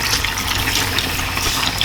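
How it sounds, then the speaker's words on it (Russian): Red wine being poured from a glass into a kazan while chakhokhbili cooks, a steady continuous liquid stream splashing close by for about two seconds, with no talking. "Нужно добавить стаканчик вина."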